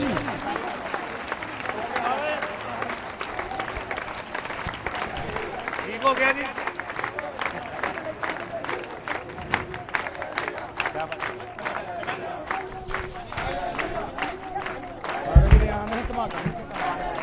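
An audience at a religious gathering in Mariamabad claps for a young child, a crowded patter of hands mixed with murmuring and a voice talking over it.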